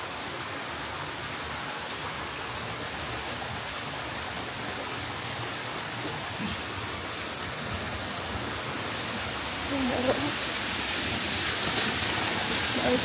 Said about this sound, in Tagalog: Ang waterfall.